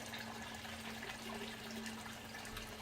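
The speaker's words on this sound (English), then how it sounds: "and to listen to the running water" Water running from a fish pond with its pump and filter system, a steady soft broadband wash with a faint constant hum underneath, continuous and fairly quiet with no talking.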